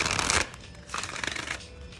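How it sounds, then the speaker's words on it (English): A deck of tarot cards is shuffled in quick bursts during a reading, with a loud riffle at the start and softer flutters afterward, close to the microphone and without speech. "Quick little shuffle."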